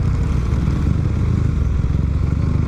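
A motorcycle rides through traffic near Calamba, its engine a steady close drone with road rumble and no pauses.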